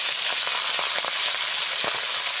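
Malabar spinach (pui shak) lands in hot tempered oil, giving a steady close sizzle and hiss broken by several short crackling pops, with no voices.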